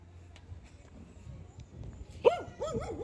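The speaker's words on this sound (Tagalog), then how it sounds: "Aso." A dog gives a few short barks and yelps nearby, loud against a quiet outdoor background with faint movement sounds. The barking comes in the last second.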